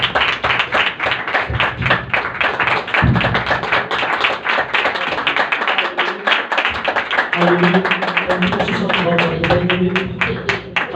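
A congregation at a Sunday church service gives steady, rhythmic clapping to welcome a pastor to the stage, close and continuous, with a voice or musical tone joining partway through.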